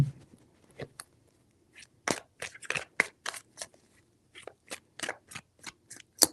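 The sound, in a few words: shuffling tarot cards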